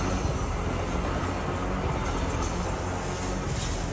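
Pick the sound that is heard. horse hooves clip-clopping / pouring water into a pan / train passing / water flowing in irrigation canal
train passing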